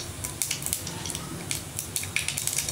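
Mustard seeds, cumin and chana dal sizzling in hot oil for a colocasia fry, giving a steady close hiss with scattered crackling pops throughout and no speech.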